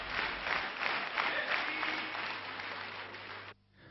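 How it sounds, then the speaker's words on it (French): Supporters at a political rally in 1972 applaud loudly, a dense crowd roar of clapping that holds for several seconds and then cuts off abruptly. "fort applaudi par ses partisans"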